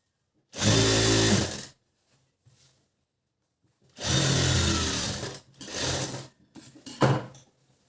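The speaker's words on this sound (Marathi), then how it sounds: "आता ही कवर शिलाई आहे कवर शिलाई द्यायची" Sewing machine running cover stitching on a blouse, in three loud bursts of whirring stitching separated by short pauses, with no talk.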